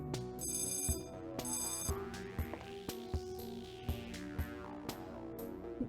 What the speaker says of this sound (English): no reason for that bell to be ringing